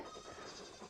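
Goat on a homestead giving a faint, wavering bleat that lasts about a second, quiet and somewhat distant, with no voices over it.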